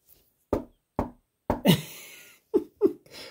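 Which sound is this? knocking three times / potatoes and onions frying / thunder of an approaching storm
knocking three times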